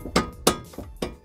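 Four sharp metallic knocks from a hammer striking a brake caliper on a 1999-2004 New Edge Mustang during an ATS brake upgrade, evenly spaced, close and fairly loud with ringing tails.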